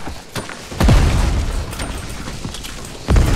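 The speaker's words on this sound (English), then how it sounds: "Hold on, let's throw some grenades." Grenade blasts in Fortnite land as two heavy booms about two seconds apart, each a loud low thump with a rumbling tail over scattered game noise.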